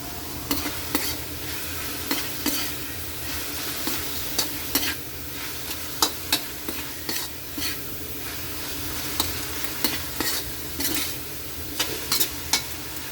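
Laing, taro leaves cooked in coconut milk, is stirred in a pot after cream cubes go in, a spoon scraping in irregular close strokes over a steady low simmering sizzle, with no voices.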